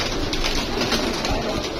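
Pigeons at a pigeon fanciers' setup during a five-day pigeon tournament in Amra Kalan, with a continuous close cooing and fluttering under a dense bed of surrounding noise, and no talk.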